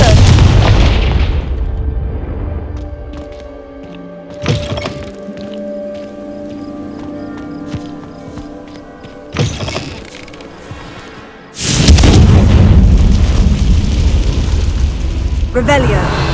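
Confringo spell blast in the Hogwarts Legacy video game: a deep boom opens, magical chimes and tones follow with small impacts, then a loud explosive burst near twelve seconds rumbles on, with game voices present.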